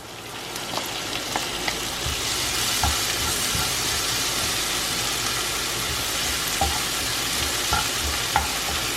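Tomatoes and green chilies frying in a pan for Manipal-style bun masala, a steady loud sizzle with scattered pops and crackles running throughout, no voices.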